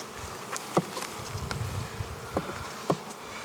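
Honeybees swarming around a strong hive during a nuc inspection, with a steady outdoor buzz and individual bees zipping close past, alone without talk.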